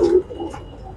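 Pigeons cooing in a loft, a short, soft, low coo heard close by, with no talking.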